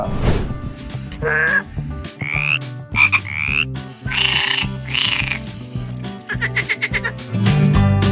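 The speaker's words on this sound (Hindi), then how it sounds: "मेंढक एक छोटा सा पानी में रहने वाला प्राणी है" A series of loud, raspy frog croaks repeat in uneven bursts, mixed with higher bleating calls, close and prominent throughout.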